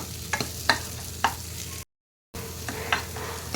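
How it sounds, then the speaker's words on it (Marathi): Fresh cowpeas (chavli) roast in a pan with a steady soft sizzle, with a few scraping stirs of a spoon, close up; the sound cuts out briefly midway. "मस्त भाजून घ्यायचे असे त्यामुळे लवकर शिजतात चवळी"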